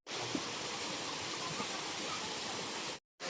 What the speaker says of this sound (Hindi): ये जलप्रपात जो है वो बहुत कम पानी है